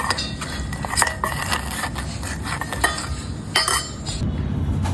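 Spice masala being stirred into a pot for a spicy Konkani-style crab curry, with steady metallic scraping and clinking of a spoon against the vessel, close and continuous.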